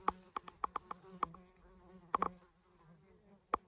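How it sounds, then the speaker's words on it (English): Close buzzing of native bees around garden flowers in short bursts, a quick series of passes followed by a pause and a few more, faint background between. "A lot of native bees working on these"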